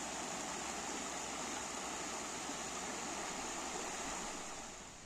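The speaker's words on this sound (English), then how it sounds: "It's a beautiful wee river." A small river in the Wicklow hills, where two streams meet, rushes with a steady, dense broadband flow. The water sounds close and loud, with no voices.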